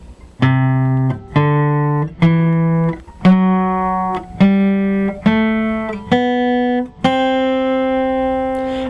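Eight evenly spaced notes climb step by step in an ascending C Lydian scale, each struck and sustained briefly, the last note held longer.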